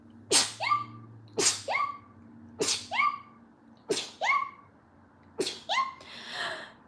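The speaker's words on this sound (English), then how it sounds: "I'm going to sneeze, so please hold" A woman sneezing five times in a row, each a sharp breathy burst with a quick intake before it, spaced about a second apart and close to the mic, the last trailing off into a softer exhale.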